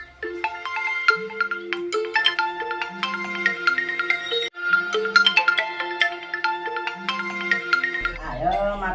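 A phone ringtone plays a repeating melodic tune at close range, steady and clear for several seconds, before it cuts off abruptly near the end.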